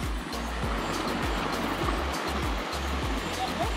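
Steady rushing water from a mountain stream waterfall roars continuously, with dull low thumps recurring underneath.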